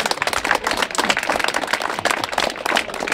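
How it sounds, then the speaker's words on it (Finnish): Applause breaks out for a contestant in a yogurt-eating contest: a dense, loud burst of crowd clapping filling a few seconds without pause. "Aplodit sille!"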